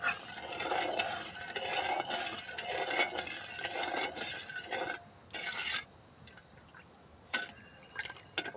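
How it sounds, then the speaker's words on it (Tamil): Thick sugar syrup bubbling and spattering in a pan, with irregular pops and a few sharp clinks of a utensil stirring, no one speaking. "பாவு நல்லா கொதிச்சிருச்சு"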